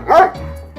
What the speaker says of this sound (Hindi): कुत्ता उन दोनों लड़कों पर भौंकने लगा।